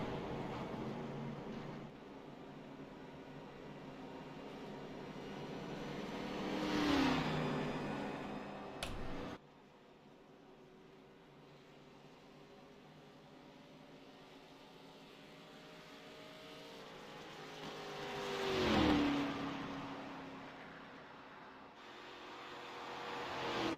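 Race cars roll slowly at pace car speed under caution at Charlotte in iRacing, a steady engine drone where two cars swell loudly past and fade away, with a brief dip between.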